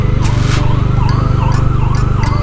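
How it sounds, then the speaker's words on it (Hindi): An ambulance siren wails in a steady rising and falling cycle, loud and close on the road, over a constant heavy engine and wind rumble. "एम्बुलेंस"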